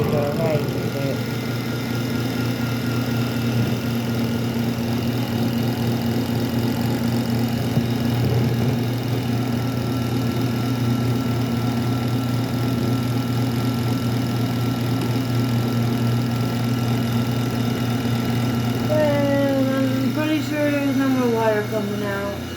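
A twin tub washing machine runs its spin cycle with a steady motor hum and whir, constant and close throughout, and a brief higher whine near the end.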